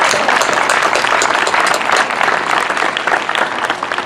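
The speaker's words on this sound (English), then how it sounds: "Now let's give them a round of applause." Crowd at an outdoor refinery protest rally applauds loudly and continuously, a dense wash of clapping that holds steady and tapers slightly toward the end.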